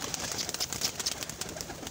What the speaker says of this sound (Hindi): अभी सब कबूतरों को दाना डालते हैं।